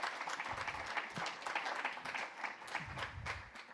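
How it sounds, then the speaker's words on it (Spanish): An audience at a university talk in Peru applauds, giving dense, steady clapping from many hands that continues throughout at a moderate, fairly distant level. "démosle un gran aplauso a Víctor, que nos ha regalado esta parte de su tiempo"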